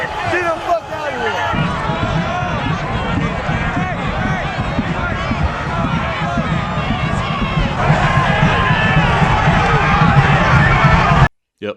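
A large, rowdy crowd at the US Capitol on January 6 fills the air with dense shouting, chanting and babble, close and loud for the whole stretch before cutting off abruptly.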